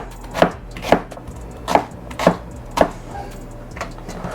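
A knife chops onions on a cutting board, cutting with the grain, in six evenly spaced crisp strikes about half a second apart, close and clear with no talking.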